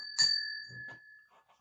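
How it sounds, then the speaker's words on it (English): A single bell ring rings out clearly with a sustained bright tone that fades over about a second, followed by a few faint low knocks. "And another ring of the bell."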